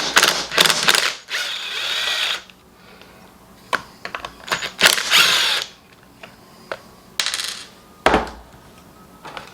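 Ratchet work loosening a couple of 8mm bolts on a Stihl 023 chainsaw: bursts of rapid clicking and metallic ticks come close up, a few seconds apart, with quiet gaps and tool taps between them and no talk.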